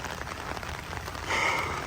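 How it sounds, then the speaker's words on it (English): Rain falls during a drive to a roadhouse, a steady soft patter that swells louder near the end, with no talk. "It's raining pretty good."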